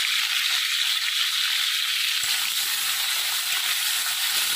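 Capsicum frying in oil in a pan, a steady close hiss and sizzle with faint crackles throughout, no voices.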